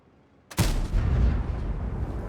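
The main gun of a Vickers MBT Mk. 3 tank fires once in a video game after a quiet lead-in, a sudden loud blast followed by a heavy, rumbling decay.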